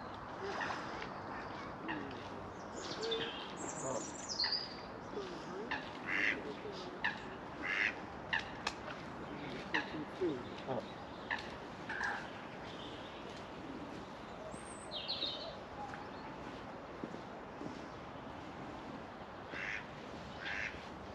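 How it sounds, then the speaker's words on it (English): Coots and other waterfowl call on a lake, giving scattered short quacks and honks at a moderate distance over a steady outdoor hiss, with faint voices and possible boat sounds in the background. "The coot come in as well."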